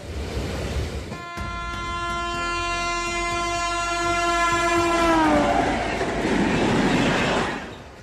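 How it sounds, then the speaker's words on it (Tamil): A train rolls in at a station in India, rumbling, then sounds a long loud horn blast lasting several seconds before it fades into the continued clatter of the approaching cars. "ரயில் வந்திருக்கு, ரயிலில் ஏறி பீகாருக்கு போறோம்."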